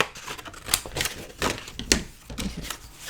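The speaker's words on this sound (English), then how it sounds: "I'm just going to use my scissors." Scissors cut through paper for a handmade flipbook, giving a close series of crisp snips and rustles in an uneven rhythm, with a few sharper clicks as the blades close.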